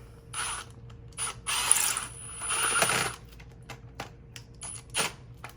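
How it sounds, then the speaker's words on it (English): Screw being driven in while installing a HavenLock on concrete, with clicking, ratcheting turns in short bursts and brief pauses, close and alone without talking. "Sometimes it's easier to pull the nylon away as you screw this in."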